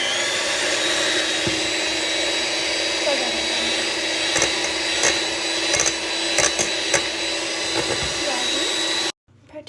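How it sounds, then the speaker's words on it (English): An electric whisk runs steadily through cake batter at a home baking session, a continuous whirring drone with faint knocks and clatters against the bowl. It stops abruptly near the end. "mix with an electric whisk or by hand. I'm doing electric whisk"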